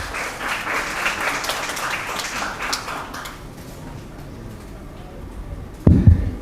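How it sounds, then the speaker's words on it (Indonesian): An audience at an entrepreneurship talk show applauds with a dense patter of clapping that fades over a few seconds, followed by a sharp thump near the end. "berikan tepuk tangan yang meriah"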